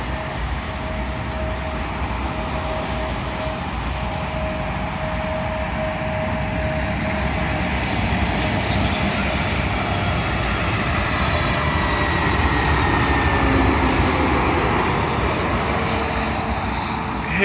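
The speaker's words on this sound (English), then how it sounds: "here is said A320neo from Glasgow" An Airbus A320neo arriving from Glasgow roars steadily as it comes in to land on runway 27L at London Heathrow, a loud sustained engine rush with a thin whine riding over it.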